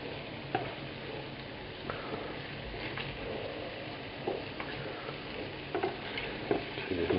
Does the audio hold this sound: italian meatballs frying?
yes